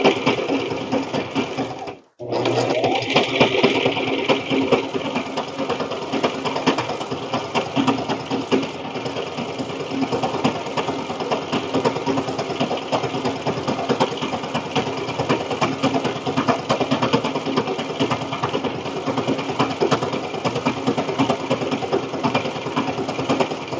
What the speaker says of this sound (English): Now when you're sewing zigzag stitch, it takes longer because it is going back and forth instead of just straight.